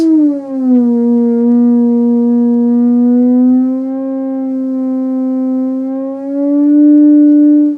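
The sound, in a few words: theremin note sliding to pitch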